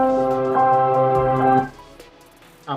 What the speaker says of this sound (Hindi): ये ब्लूटूथ ऑन की आवाज है।